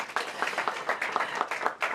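Brief applause from an audience at a mayoral press briefing, scattered rhythmic clapping that pulses unevenly over two seconds at moderate loudness.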